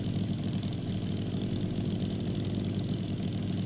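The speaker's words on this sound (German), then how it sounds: "Ich guck mal den Auspuff. Macht auch Puff." A motorcycle engine in the game Night of the Dead runs with a loud, constant, throaty exhaust rumble, steady and close with a slight knocking texture and no speech over it.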